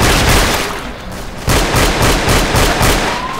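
Rapid gunfire rattles loudly and close in Left 4 Dead 2, a dense burst of repeated shots with a rhythmic pulse and no voices over it.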